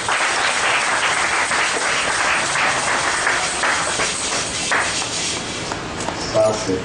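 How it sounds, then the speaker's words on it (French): A church congregation claps together in praise, dense and loud applause filling the room steadily, with some voices mixed in. "Applaudissons le Seigneur"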